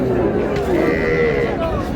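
A cow moos at a cattle market, a drawn-out low call that stands out above a dense crowd murmur. People talk in the background.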